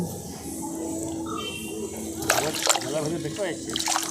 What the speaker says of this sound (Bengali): মাছগুলোকে বার করি বালতির ভিতর থেকে লাফাচ্ছে এখনও মাছগুলো